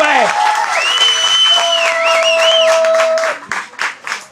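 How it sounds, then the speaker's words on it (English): A crowd applauds and cheers the senior players of the undefeated Berean Academy Eagles team, with a steady roar of clapping, a sustained whoop or horn-like tone riding over it, and the clapping breaking into a few uneven bursts near the end. "can we get a big round of applause for all of the seniors on the Berean Academy Eagles team"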